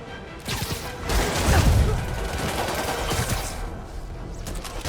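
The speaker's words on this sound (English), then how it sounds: "Gunshot coming!" Gunfire in the Spider-Man Remastered video game, a dense crackling volley of shots that swells to a loud burst in the middle and then keeps up a steady rattle, with brief voices mixed in.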